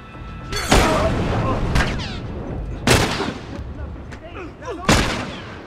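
Three loud, widely spaced gunshots from a revolver and an automatic pistol ring out in The Last of Us, each a sharp boom with a short tail, under someone talking in German.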